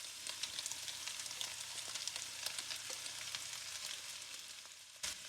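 Chinese sausage and turnip fry in a pan with a steady, close sizzle and crackle, small pops scattered throughout and a brief louder stir near the end.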